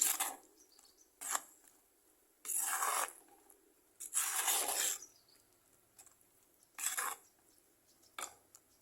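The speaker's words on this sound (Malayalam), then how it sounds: "ഇനി ഇത് ഈ അരപ്പും കൂടെ ചേർത്ത് നന്നായിട്ടൊന്ന് വഴറ്റാം" A ground masala paste is sautéed with tomatoes in a pan over low flame, heard as repeated bursts of scraping and rubbing as a utensil stirs the mixture, with quiet gaps between strokes.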